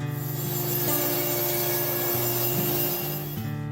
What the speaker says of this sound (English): bandsaw the veneers and overlays